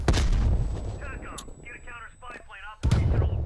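Frag grenade blast in a video game: two loud broadband booms, one at the start and one near the end, with brief game voice chatter and tones in between.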